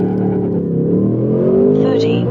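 A stock 2024 Ford Mustang S650 launching hard, its engine note climbing steadily in pitch as it accelerates, loud and close from inside the car, with a voice talking over it.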